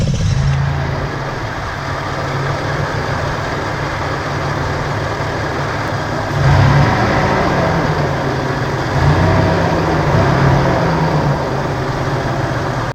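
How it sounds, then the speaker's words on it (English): A Toyota Tacoma truck engine idles steadily up close, its low hum overlaid by a faint whirring whine from a failing idler pulley that swells briefly a couple of times. "the engine is making a couple of really strange noises"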